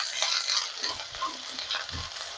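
Sliced onions frying in hot oil in a pot for a chicken stew, heard as a steady, close sizzle with soft stirring bumps underneath.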